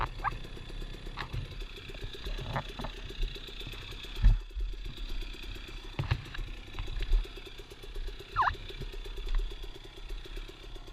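A 2018 Husqvarna TX 300 two-stroke dirt bike, geared down to a 13-tooth front sprocket, runs at low steady revs with a buzzy, slightly clattery engine note and a few brief throttle blips, moderately close and alone.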